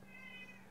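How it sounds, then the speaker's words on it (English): A domestic house cat meows once, a faint, drawn-out tonal cry heard indoors, alone without any talking. "there's a cat meowing. It's my cat."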